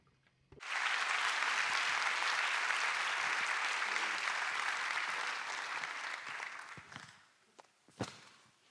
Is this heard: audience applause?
yes